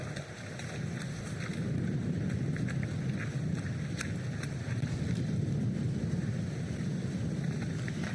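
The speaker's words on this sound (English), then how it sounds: "can see it's really windy out there" Strong wind blows outdoors before dawn at an orienteering relay, a steady low roar buffeting the microphone with faint scattered ticks, no voices.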